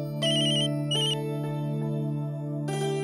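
A phone ringtone for an incoming call from a daughter-in-law plays a bright repeating electronic melody, clear and loud with steady rhythmic bursts and no talking over it.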